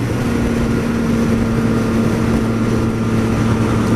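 A 2014 Yamaha MT-09 motorcycle with its engine running steadily, a constant loud rumble with a droning hum and no change in revs, heard alone without talk.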